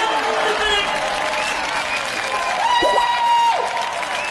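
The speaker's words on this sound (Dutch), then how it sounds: "Geef er ook een applaus" Applause and cheering from a studio audience at a Dutch talent show performance, loud crowd noise mixed with music tones and voices over it.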